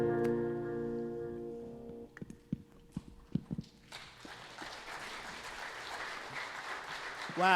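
A church audience claps at a Sunday service; the clip opens on sustained musical tones, a few scattered claps and knocks follow, then dense applause swells and holds to the end, fairly distant and moderate in level.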